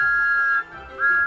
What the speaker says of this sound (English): Thomas blew his wonderful whistle loud and long.